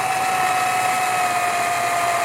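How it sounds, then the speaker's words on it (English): A power drill with a 3-inch bit bores into the ice of a backyard rink at a constant high whine with a steady tonal hum, grinding continuously without pause and no voices. "And then I just use a drill bit, 3-inch drill bit."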